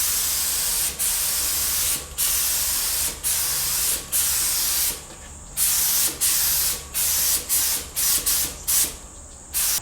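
A spray gun hisses out clear coat onto a motorcycle tank for an SV650 street fighter build, in a steady series of loud, close bursts of even length separated by short pauses, with no talk.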